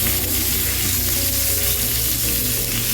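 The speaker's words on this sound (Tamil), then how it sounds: "கடுகு பொரியுதுங்க." Mustard seeds spluttering in hot oil alongside dried red chilli, green chilli and chilli powder for brinjal rice, a steady dense crackle and sizzle close up with no talk.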